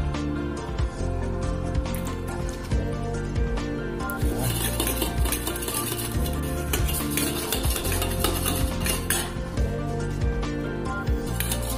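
Chicken sauce with sugar and soy sauce is stirred in a hot pan: steady utensil scraping and clinking against the metal over continuous close sizzling, with no talk.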